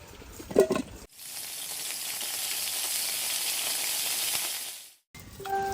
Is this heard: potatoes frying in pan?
yes